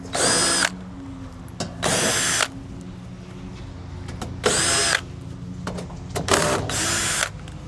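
A power drill whirs in four or five short bursts, taking screws out of the top panel of a York gas package unit. Quiet pauses with faint clicks fall between the close, loud runs.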